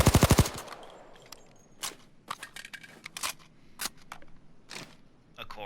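In Payday 2, an HK MP5 Compact 5 submachine gun fires a short, loud rapid burst of about five shots. Scattered quieter mechanical clicks and clatters follow against a hushed background.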